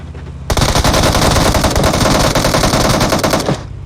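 Rapid automatic gunfire in PUBG Mobile, a loud, unbroken burst of shots lasting about three seconds, close and dense, with no talking over it.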